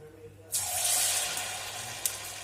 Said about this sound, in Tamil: நான் கடாயில் எண்ணெய் வச்சுருக்கேன். நல்லா எண்ணெய் கொதிச்சிருச்சு பாருங்கள்.